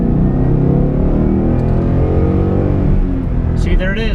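A 2012 Ford Mustang GT accelerates hard, its engine a loud, close, deep roar rising steadily in pitch through a pull before easing off near the end, with a voice talking over it.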